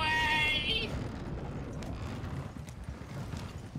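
Horses pulling a wagon through St. Denis in Red Dead Redemption 2, with a steady clip-clop of hooves and wagon rumble under a brief high-pitched call at the start, fairly close and continuous.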